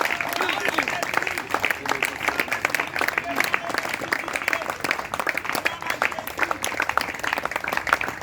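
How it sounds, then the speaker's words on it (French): Congregation at a church fasting and prayer service claps continuously and fairly evenly through the stretch, a moderately loud, sustained patter with some voices underneath. "Il mérite nos acclamations. Acclamons Jésus."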